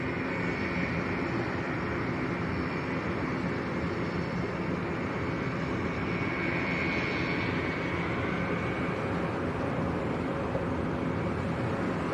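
Passenger jet aircraft at Lanzarote Airport, a continuous loud engine roar and rumble that holds steady throughout, with a faint higher whine fading midway.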